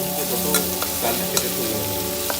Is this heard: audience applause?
no